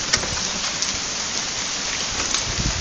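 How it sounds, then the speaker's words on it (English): Large marble-size hail pours down steadily in Tacoma, Washington, a dense, loud hiss of pelting ice alone with no voices. "We just got really big hail. Some marble size hail."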